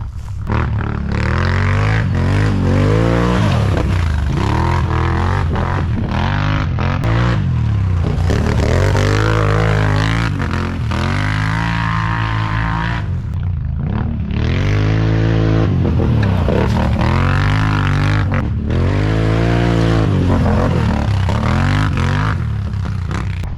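Can-Am XXC1000 Renegade quad ridden on a GNCC race track, engine revving hard and close with repeated rising and falling throttle sweeps, rumbling and clattering as it laps past.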